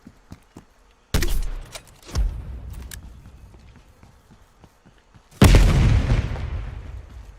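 A spawn-tube launcher fires in Black Ops Cold War on the Cartel map: two sharp, loud blasts with rolling tails, the second heavier, separated by scattered footstep-like clicks and thuds, with no talking.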